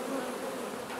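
Honey bees hum steadily inside a hive, a dense, continuous buzz with no pauses, close and fairly loud.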